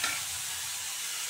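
Tomato added to cauliflower and potato frying in a pan, a soft steady sizzle hissing throughout, close and unbroken, with no one speaking.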